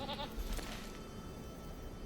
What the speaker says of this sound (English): I want to get the goats up here.